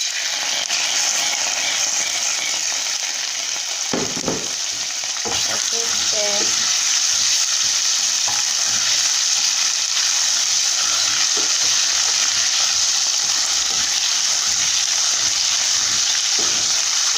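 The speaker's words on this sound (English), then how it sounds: "Allow the tomatoes to cook for some time." Tomato paste frying in a pot for peppered kpomo, a loud continuous sizzle with occasional scraping and clinking stirs near the start, close and steady with no talking.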